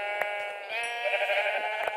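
Minecraft sheep bleating in a steady, buzzy run that lasts about two seconds, fairly close and clear, with a few faint clicks and taps around it and no talk over it.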